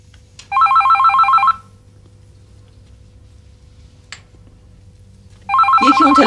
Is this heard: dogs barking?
no